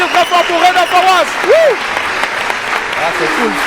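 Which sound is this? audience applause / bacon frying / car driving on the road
audience applause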